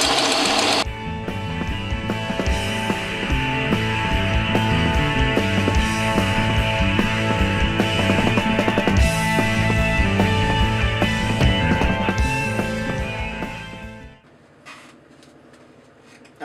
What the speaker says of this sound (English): Now the outside, I'm going to use my belt sander and take that down.